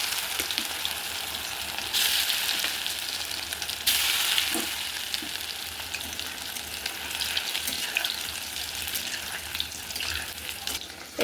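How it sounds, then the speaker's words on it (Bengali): Soybeans dropped into hot mustard oil in a kadai, a continuous hissing sizzle with bursts of louder crackling as they hit the oil and are stirred, no talk. "তেল ভালো করে গরম হয়ে গেছে, আমি এখন সয়াবিনগুলোকে দিয়ে ভেজে নেব।"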